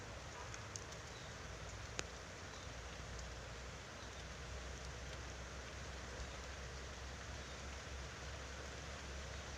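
Rain falls outdoors among yellow bamboo, a dense, steady hiss of drops that fills the whole stretch evenly at a low, distant level, without talk.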